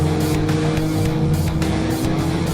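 A modified Mazda RX-7 race car with a 900-horsepower engine pulls away at speed on a record attempt, its loud, steady engine drone rising through gear changes, close and continuous.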